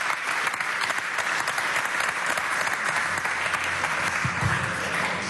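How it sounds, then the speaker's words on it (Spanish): A crowd at the closing ceremony of the 2019 FILVEN international book fair at the Casa Amarilla breaks into loud, sustained applause, a full, continuous clapping lasting several seconds. "Un gran aplauso a este gran compañero, Luis Brito García"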